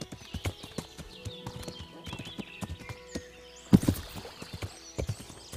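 Horse hooves clip-clop steadily in the medieval video game Kingdom Come: Deliverance, a close, irregular run of knocks with a brief louder scuffle near the end and faint game ambience beneath.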